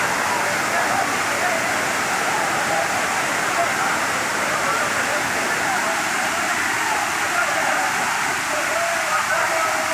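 Panchalinga waterfall near Pollachi on the way to Udumalaipettai pours in a loud, steady, broadband roar that fills the whole stretch without pause, close and unbroken.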